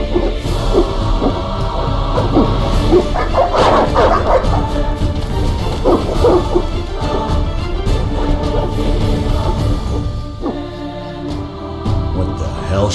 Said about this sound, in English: What are those dogs doing?